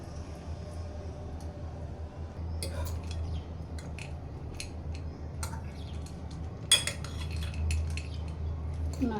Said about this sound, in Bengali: নাড়তে হবে, মিক্স করতেছি এখন।